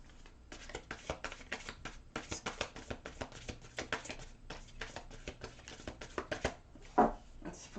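Tarot cards shuffled by hand in rapid rhythmic bursts, crisp riffling flutters and soft taps repeating closely over several seconds, with one louder knock near the end.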